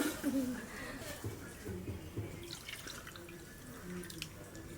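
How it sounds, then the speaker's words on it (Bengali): Rice is swished and rinsed by hand in water, giving soft sloshing and dripping sounds up close, with birds chirping faintly in the background. "এরকম করে চালগুলো ধুলে পরে একটাও পাথর পড়বে না চালের মধ্যে"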